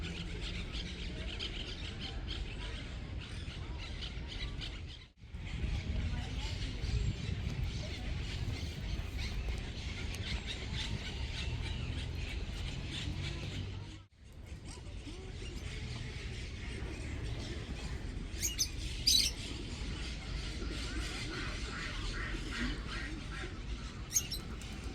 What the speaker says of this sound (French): Et on entend les oiseaux chanter.